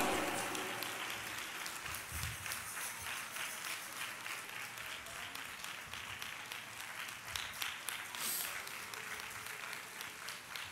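A church congregation at a Telugu Sunday service claps hands steadily in worship, a continuous patter of many hands in a reverberant hall, moderately distant with a few stronger claps standing out.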